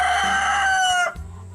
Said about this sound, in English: He's done starting to crow.